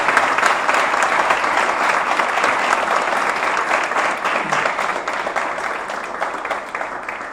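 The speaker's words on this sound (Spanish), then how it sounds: "Pido un fuerte aplauso para nuestro héroe" A large audience applauds Daniel Ianni as he is introduced at an evening talk, a dense, steady wash of clapping that holds loud throughout and fades slightly toward the end.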